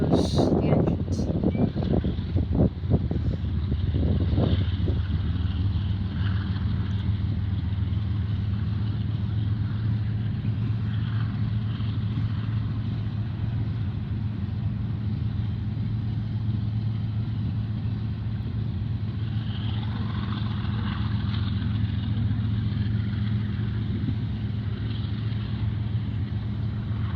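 BNSF freight container train locomotives accelerating, a steady low diesel engine rumble that holds throughout the clip, with a few sharp clanks early on and faint wind noise above.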